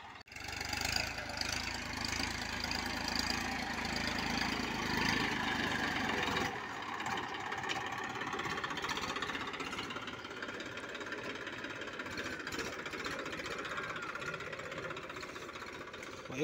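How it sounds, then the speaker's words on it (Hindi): A Massey Ferguson 1035 DI 36 HP tractor engine runs steadily during sugarcane sowing, a continuous close mechanical drone that loses some low rumble partway through and then carries on evenly. "मेस्सी 1035 DI 36 HP का ट्रैक्टर है और सैमसंग कंपनी का इंजन होता है।"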